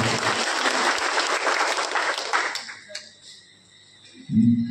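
An audience applauding at an Ahilyabai Holkar Jayanti speech: loud, dense clapping from a crowd that fades out over a few seconds before a voice begins.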